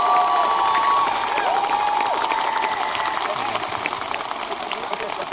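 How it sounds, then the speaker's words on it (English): A crowd at a Fight for 15 rally in Las Vegas applauding and cheering: loud, dense clapping and whooping that fills the whole stretch, with shouting voices mixed in and the noise easing slightly toward the end. "Let's give him a round of applause."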